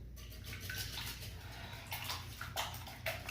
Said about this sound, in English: Now that we got all the eggs in the bowl, gotta whisk them